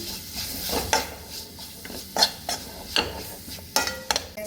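Spoon stirring Kashmiri red chilli powder and masala into a beef chilli sauce in a pan, a series of sharp scraping clinks at uneven intervals against a quiet background, with no talk.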